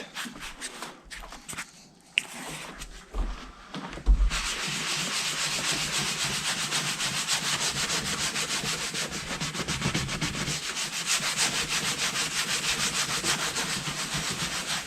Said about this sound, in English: Now I'm going to sand it for better grip of new paint. I'm using Colourlock Sanding Pad.